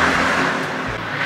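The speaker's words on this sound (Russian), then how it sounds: "Тут приближаются 3 машины." Several cars approaching and passing on a road during an outdoor walk, a continuous broad swish of traffic that stays fairly loud and steady throughout with no talking.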